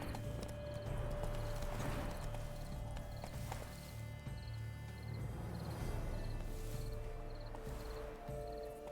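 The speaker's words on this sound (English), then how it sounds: "I'm riding a unicorn!" Hooves clip-clop steadily in a continuous galloping rhythm while riding a unicorn through large gardens in The Witcher 3, loud and close over a sustained game ambience and music bed.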